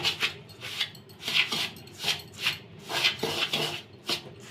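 Batter with grated coconut is mixed in a bowl, giving a steady rhythmic series of scraping strokes, each a short rasp against the bowl, close and fairly loud.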